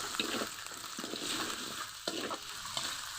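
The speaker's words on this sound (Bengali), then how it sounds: "সামান্য করে পাঁচফোড়ন, একটু পরে দিয়ে দিব আলু, লবণ দিব, গ্রেট করে রাখা আদা, কিছুক্ষণ কষিয়ে নেব" Potatoes fry in oil with bay leaf, panch phoron five-spice, salt and grated ginger for aloo dum, giving a continuous close sizzle broken by occasional scrapes of a stirring utensil.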